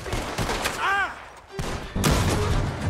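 Gunfire in the video game Red Dead Redemption 2, several sharp booming shots with echoing tails mixed among game sounds and a brief vocal cry, fairly loud.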